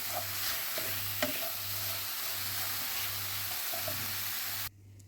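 Sliced champignon mushrooms sizzle softly in a frying pan while a spoon stirs them in slow, repeated scraping strokes. It is quiet and close, and the sound cuts off abruptly near the end.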